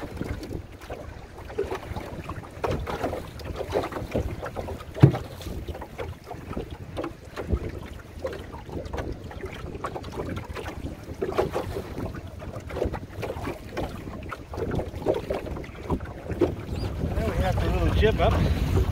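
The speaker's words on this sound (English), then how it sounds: "Oh, she's moving great. A bit choppy out here, but it's actually fun." A Pooduck skiff sails across choppy lake water, with water slapping and sloshing against the hull under gusty wind buffeting the microphone, and a voice speaks briefly over it.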